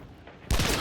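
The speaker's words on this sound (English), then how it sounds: "About to take a shot at him." Gunfire in a video game, aimed at a target on a rooftop, erupts abruptly after a quiet lull and continues as a loud, dense volley of shots to the end.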